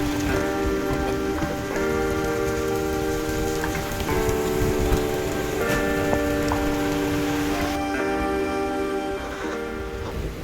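Heavy rain patters continuously on a train during a journey from Tirupati to Kakinada, a steady dense hiss with faint tonal hum and occasional ticks underneath, no talk.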